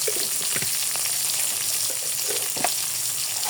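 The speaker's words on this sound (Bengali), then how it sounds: "আর এই তেলের মধ্যে আমি পেঁয়াজটা দিয়ে দিব। পেঁয়াজ দেবো আর দিয়ে দেবো এলাচ।" Onion and cardamom pods frying in hot oil for a meat curry with jackfruit seeds, a steady close sizzle with a few soft clicks and pops, no voices.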